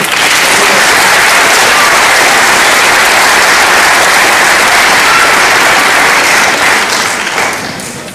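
Loud, dense applause fills a graduation ceremony for a high school class, a steady wash of many hands clapping that holds for several seconds before starting to fade at the end.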